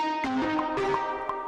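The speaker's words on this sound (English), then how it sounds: "So the lead just sounds like this." A synth lead from a beat built on Maschine MK3 plays alone: a bright, sustained tone with a few note changes and soft attacks across a short phrase, with no voices.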